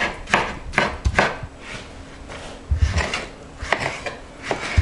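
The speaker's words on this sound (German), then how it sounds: "So, grob klein schneiden." Knife roughly chopping mangoes on a board for jam, a series of irregular close knocks and cuts with brief pauses, no talking.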